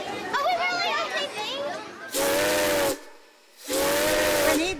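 A whistle blown in two long, loud, steady blasts, each close to a second long, with a short silence between them, following a stretch of overlapping voices.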